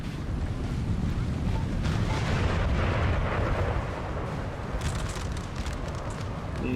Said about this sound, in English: Nice hit from the artillery.